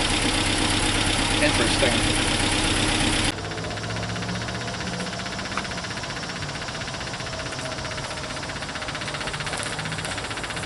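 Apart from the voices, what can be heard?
Land Rover Series 2A engine cranking on starter motor, idling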